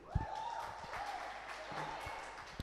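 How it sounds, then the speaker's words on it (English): Steady applause from an audience, a dense wash of clapping that holds throughout with a few sharper claps standing out. "Please let us also give him a round of applause."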